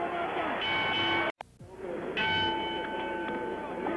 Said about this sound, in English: The bell for round 7.